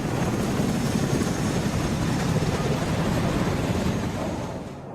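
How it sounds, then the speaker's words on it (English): Military aircraft overhead in Afghanistan, B-1 bombers, A-10 tank busters and Apache attack helicopters, make a steady, loud low rumbling roar that holds for several seconds before easing slightly at the end, with no talk. "Overhead, NATO deploys B-1 bombers, A-10 tank busters, and Apache attack helicopters to protect its commander."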